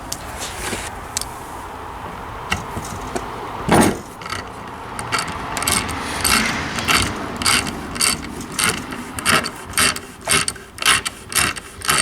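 A ratchet wrench clicks rapidly as a bolt comes out of the oil pump on a 2.2L or 2.4L Ecotec engine, bursts of close, loud metallic ratcheting that grow faster and denser toward the end, with no talk.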